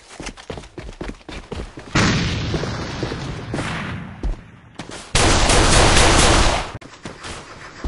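Two grenade detonations in the first-person shooter A.V.A, each a loud, broad roar lasting a few seconds, separated by crackling gunfire and sharp pops.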